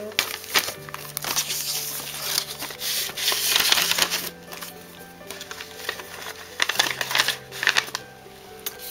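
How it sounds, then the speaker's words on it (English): Photographs being slid back into a paper envelope, with a run of crinkling, rustling paper handling sounds close by, steady through the clip. "I'll just put these back in the envelope."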